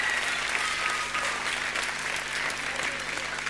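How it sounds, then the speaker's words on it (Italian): Studio audience at a talent show claps for a young woman contestant, a continuous and fairly loud round of applause with a brief dip midway and some voices mixed in. "facciamo un applauso intanto a questa signorina"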